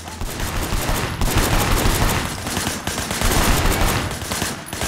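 Dense, rapid gunfire in the Sleeping Dogs video game, loud and close, rattling on almost without pause throughout with brief dips between volleys.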